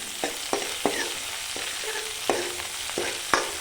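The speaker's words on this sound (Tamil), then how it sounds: "சேர்த்து நல்லா வதக்கி விட்டுடலாம்" A spoon stirs spices and asafoetida powder sautéing in a pan, with sharp metallic scrapes and taps recurring every half second or so over a soft, steady sizzle, close and clear with no talking.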